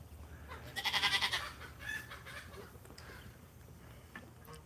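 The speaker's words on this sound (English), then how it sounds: "it's the doggonest crowing you ever heard out here" A rooster crows once in a loud, drawn-out call, followed by fainter clucking and farmyard noise.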